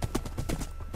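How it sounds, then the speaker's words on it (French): Horse hooves clop in a Minecraft UHC game, a quick run of close, even footfalls that keeps going with no break. "Oh, il y a d'autres chevaux là-bas."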